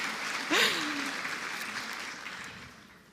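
Audience applause for Andrea Cardona at a Mujeres 360° event, a broad steady wash of clapping with a brief tonal whoop or voice near the start, fading gradually toward the end.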